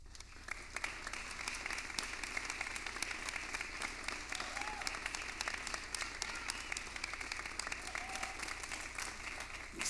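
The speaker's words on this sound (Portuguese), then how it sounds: "Banda, vamos aplaudir." A concert audience applauds a youth symphonic band from the Tatuí Conservatory, steady even clapping heard from a distance, fairly faint and continuous, with a few voices underneath.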